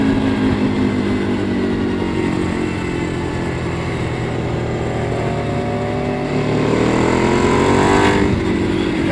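A sport motorcycle on a race track holds a loud, close, steady engine roar, easing briefly as it brakes and then climbing in pitch as it accelerates hard near the end.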